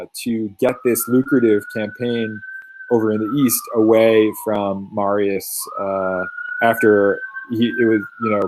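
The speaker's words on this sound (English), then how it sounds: "I live right near a hospital, so every once in a while, ambulances go by." An ambulance siren passes outside near a hospital, a faint wailing tone that slowly rises and falls beneath a lecturer speaking continuously.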